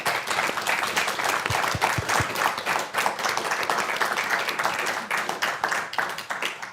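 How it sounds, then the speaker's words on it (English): Applause from an evening panel-debate audience at the close of a data event, a dense steady wash of many hands clapping that fills the room for the whole stretch, with a few louder individual claps near the front. "So can we have a round of applause for our panel,"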